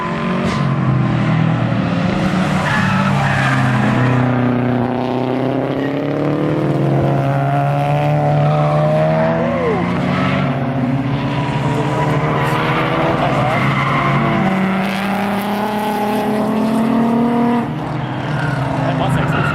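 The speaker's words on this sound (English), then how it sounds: "That Mustang sounds good." A Ford Mustang race car at a Mid-Ohio GRID LIFE track event passes with a loud, sustained engine roar that rises and falls through the gears, dominating the scene with people talking underneath.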